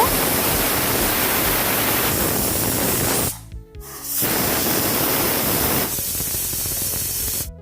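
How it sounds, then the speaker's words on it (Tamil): A pressure cooker of vegetable biryani vents steam in a loud, harsh, continuous hiss. The hiss cuts off briefly, then resumes and fades slightly toward the end. "மிதமான சூடில் 2 விசிலுக்கு வேக வச்சுக்கோங்க"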